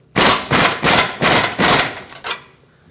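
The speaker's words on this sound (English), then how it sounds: "Now let's finish tightening up this bolt and then we'll torque it." An air tool or impact wrench tightens a front control arm bolt on a 2009-2019 Ford Flex, giving six loud, sharp bursts in quick succession, with the last one shorter and weaker.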